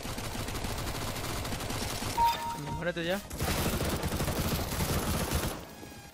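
Bursts of gunfire from Counter-Strike: Global Offensive fill the clip, dense and continuous, with someone speaking over the shooting in short exclamations.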